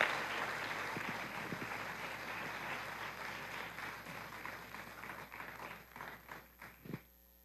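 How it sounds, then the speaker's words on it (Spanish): A church congregation applauds, with dense steady clapping that fills the room and then thins into scattered, separate claps before stopping. "Vamos a darle un aplauso al Señor por él,"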